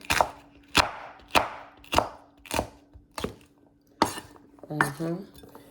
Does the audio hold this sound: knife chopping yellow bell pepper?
yes